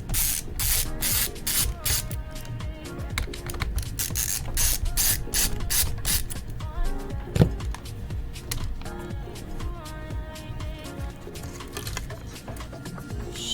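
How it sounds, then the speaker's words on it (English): Hinge screws coming out of an HP 17t laptop with a ratcheting screwdriver, a rapid run of close clicking pawl sounds, first in dense bursts, then a steadier clatter with a single sharper knock. "Let me take this hinge off."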